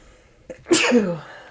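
A single sharp sneeze bursts out close and loud in a quiet room, preceded by a brief intake of breath, during a casual sports podcast conversation.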